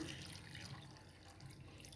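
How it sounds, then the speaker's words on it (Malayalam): Water poured into a pan of ground curry paste while cooking a Kerala-style curry, a steady, soft running and splashing with no voices. "നമുക്ക് കുറച്ചുകൂടി വെള്ളം ആഡാക്കി കൊടുക്കാം"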